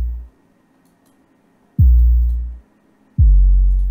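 Heavy 808 bass hits run through a bit-crushing Redux effect in an ambient beat, with gritty noise. Three deep booming notes, each sustaining and then cutting off, with the last two entering sharply after short gaps.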